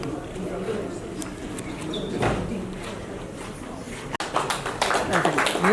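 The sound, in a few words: audience applause for the presidential address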